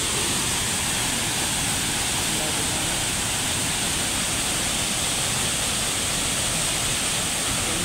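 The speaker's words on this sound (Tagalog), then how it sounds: "Tapos ang agos ng tubig ngayon ah." Loud, steady roar of a waterfall in Dumalinao, Zamboanga del Sur, a dense unbroken rush of flowing water filling the whole clip.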